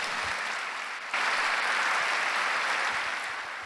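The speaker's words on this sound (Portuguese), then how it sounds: "Então dá um aplauso a Jesus." A church congregation at a Sunday service applauds in a steady broadband wash that swells louder after about a second and holds, with no talk over it.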